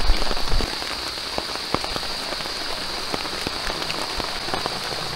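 Steady heavy rain pattering densely on a camping mat, with scattered louder drops, continuous and close for the whole stretch.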